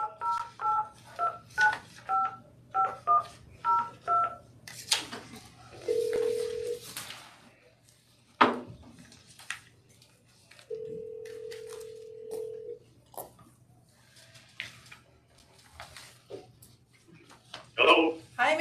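A phone call placed during a police commission meeting: a quick run of keypad dial tones is followed by two long ringback tones, with background murmur and brief voices in between.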